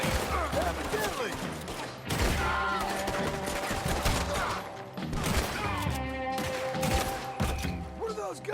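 Dense gunfire in a Red Dead Redemption 2 shootout: rapid overlapping rifle and pistol shots crackle continuously at close range, with shouted character voices breaking through the barrage.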